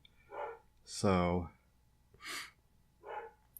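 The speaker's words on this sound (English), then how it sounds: "sorry about the barking dogs in the background." Several dogs barking at a window in the background: a few short, moderately loud bursts spaced about a second apart, with a man's brief speech between them.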